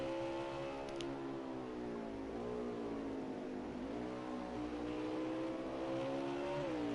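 Race car engine in a racing video game at Watkins Glen, a steady, loud droning whine rising in pitch as it accelerates out of a turn, with smooth gear-shift dips across the stretch.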